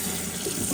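Hot water pours into the water tank of a BISSELL Crosswave Pet Pro, a brief, close, steady splashing rush.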